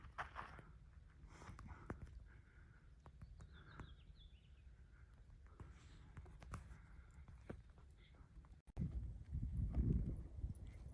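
Cows walk around a lone desert campsite near Indian Bread Rocks, their hooves giving a soft, uneven clopping against steady wind noise, with a louder rustling burst of movement close by near the end.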